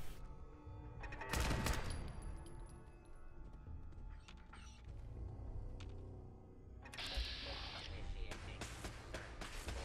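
Turrets open fire in Fallout 4, a burst of rapid gunfire near the start and more clattering shots toward the end, with mechanical clanks and game effects between them.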